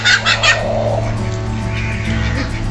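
Farm ducks quack in several quick, loud, close calls at the start, followed by softer scattered calls over a steady low hum.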